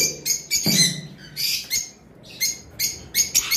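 A pair of pet lovebirds chirps in sharp, shrill bursts, several quick calls close together with brief pauses between them, near and clear with no talk.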